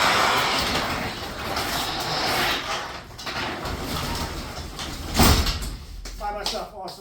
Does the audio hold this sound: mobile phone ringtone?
no